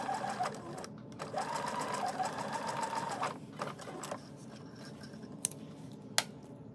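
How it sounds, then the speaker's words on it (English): Sewing machine stitching quilt strips: a steady mechanical whirring run in two stretches, fairly close and quiet, followed by softer handling noises and a couple of sharp clicks. "Take it to the sewing machine and sew it along"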